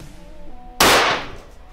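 A single sharp rifle shot cracks out at a long-range shooting session aimed at a target 1,000 yards away, loud and close, decaying quickly after a quiet lead-in.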